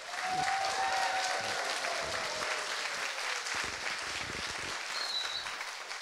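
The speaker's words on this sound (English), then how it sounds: "Let's give this wonderful senator a round of applause" Sustained audience applause for a senator at a community hearing on equity and high school admissions, a full, even roar of many hands at moderate distance, with a faint voice or cheer threading through early on.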